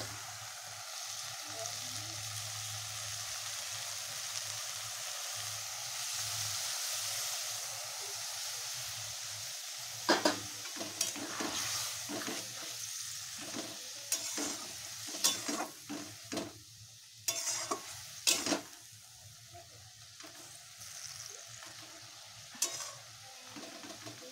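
Fish curry with fenugreek sizzles and fries in a pan after a little water is added, with a steady hiss broken by repeated stirring scrapes and clatters in the second half.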